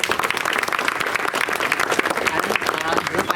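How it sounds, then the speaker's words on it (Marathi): A crowd applauds loudly and continuously at a groundbreaking ceremony for concreting a road in Mahalakshmi Nagar, a dense wash of clapping with voices mixed in throughout. "सर्वांनी सर्वप्रथम त्यांची जोरदार टाळ्या वाजवायची"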